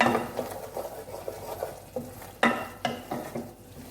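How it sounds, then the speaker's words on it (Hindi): Tomato masala stir-fried in oil for Punjabi kadhi pakora, a low sizzle with a series of spoon scrapes and knocks against the pan, a couple of them louder, heard up close without speech. "अब इसे हमने अच्छे तरीके से भूनना है ताकि मसाले का कच्चापन दूर हो जाए"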